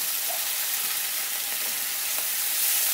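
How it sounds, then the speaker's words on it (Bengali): Spice paste with tomato, salt and a splash of water frying in a pan for an egg and soybean curry, giving a loud, constant close-up sizzle throughout with no talking. "এখন মশলাটাকে খুব ভালো করে একটু কষিয়ে নেব 4-5 মিনিট ধরে"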